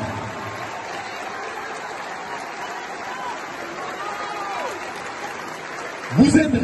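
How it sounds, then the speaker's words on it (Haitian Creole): A large crowd applauds steadily at a public rally, a broad wash of clapping that carries on unbroken before a louder burst of cheering and voices near the end. "je vous demande de vous applaudir avec la plus grande puissance"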